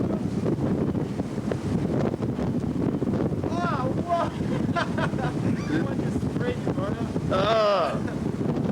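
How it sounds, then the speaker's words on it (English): Strong wind roaring across open water during windsurfing at a Norwegian or Swedish cottage, a steady, heavy rush of gusts buffeting the microphone, with people talking over it throughout. "It's very windy and cold out here."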